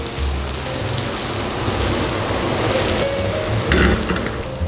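Thin-sliced red onion frying in rendered smoked bacon fat gives a loud, steady, dense sizzle close up, with no voices over it.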